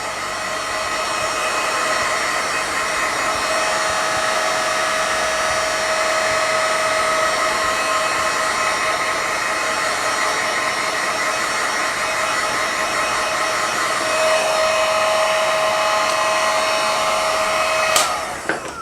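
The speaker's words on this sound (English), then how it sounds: "my creations now a little bit with the heat gun" A heat gun blowing over freshly inked craft pieces to dry them, a loud, steady, close whine that runs unbroken for almost twenty seconds and then clicks off right at the end.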